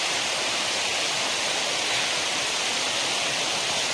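Steady, dense roar of rainwater falling down a waterfall formed by heavy rain, loud and unbroken throughout, with no voices.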